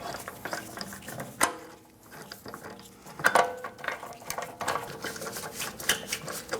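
Ratchet wrench with a 17mm socket working lug bolts onto an Audi Q5 wheel, giving bursts of quick clicking pawl ticks with brief pauses between runs, close and fairly quiet.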